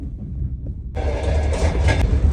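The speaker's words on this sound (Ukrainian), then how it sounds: "Я вже в поїзді." A passenger train on a trip to the Carpathians rumbles along, low steady rolling noise that suddenly opens up louder and brighter partway through, with rhythmic wheel clatter continuing close by and no talking.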